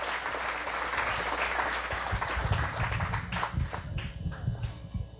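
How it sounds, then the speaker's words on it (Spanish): Congregation at a Christian wedding ceremony breaks into sustained applause, a dense wash of many hands clapping close by that carries through the whole stretch, with faint murmurs underneath. "Calurosos aplausos, hermanos."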